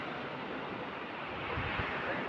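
Waves wash against a sandy river bank in the Sundarbans, heard as a steady broadband rush of surf and wind at close range, with a couple of soft low thumps near the end.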